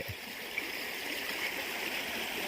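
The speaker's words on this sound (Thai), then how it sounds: "น้ำตรงนี้จะไหลตลอด" Water pours continuously from an opened spring at a site in Sakon Nakhon, Thailand, a steady close rushing stream with no break and no voices over it.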